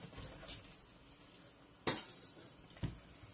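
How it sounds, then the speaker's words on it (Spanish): A medium metal cooking pot being handled in a kitchen, two faint early knocks followed by a sharp close clank and a quieter clink a second later, with no talking. "Puse una cacerola"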